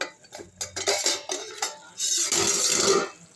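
A metal lid lifted off a cooking pot of chicken chops simmering with thuthuvalai leaves, giving several close clinks and clatters followed by a steady hiss of steam.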